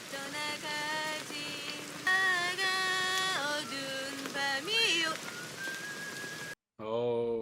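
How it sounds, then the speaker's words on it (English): Someone outside whistles a wandering tune of sustained, sliding notes, with a brief break and then a short burst of whistling at the end. "Oh, somebody out there whistling."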